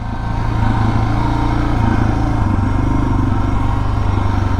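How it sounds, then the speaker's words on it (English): A bulldozer engine running close by in snowy mountains, a loud, steady, rumbling diesel idle with a rapid low throb throughout. "there's the dozer"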